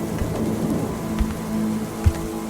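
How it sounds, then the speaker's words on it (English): Heavy rain pours down in a dense, steady hiss, with a couple of low thumps breaking through the continuous wash. "I stepped out into the downpour, my flashlight having trouble penetrating the thick sheet of rain."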